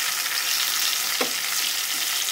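Five pieces of rohu fish fry in oil, a loud, dense, even sizzle with one brief knock partway through, heard close with no talking.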